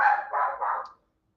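A dog gives three quick barks in a row, close and fairly loud, then falls silent, with no other sound around it.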